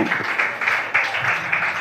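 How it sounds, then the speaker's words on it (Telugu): An audience claps steadily and fairly loudly during a church sermon, a dense continuous patter of hands filling the short stretch with no talk over it. "గట్టిగా చప్పట్లు కొడదాం"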